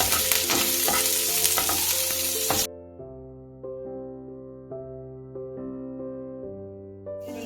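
Garlic, onion and curry leaves sizzle and crackle loudly in a hot pan for under three seconds, then the frying cuts off abruptly and steady tonal music with sustained notes takes over.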